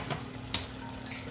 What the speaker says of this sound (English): And let me give it a stir.